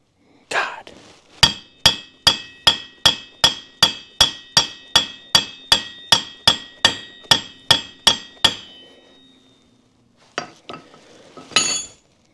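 A hammer striking an ATV wheel assembly, sixteen loud metallic ringing blows in a fast, even rhythm close by, followed by a pause and a few scattered clanks.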